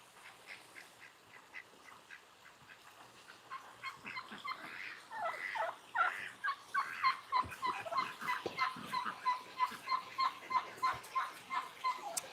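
Excited chickens and other fowl calling at an animal sanctuary, starting as scattered clucks and building into a loud, busy chorus of rapid, repeated calls.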